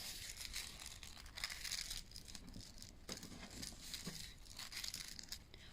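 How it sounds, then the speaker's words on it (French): Paper is folded into small accordion pleats along its length, a quiet, close crinkling and crumpling with soft irregular creases and rustles and no talk. "je vais venir faire des petits plis de cette façon sur tout le long du papier."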